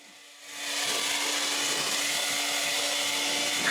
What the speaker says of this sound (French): J'essaye d'enlever la poussière avec le souffleur.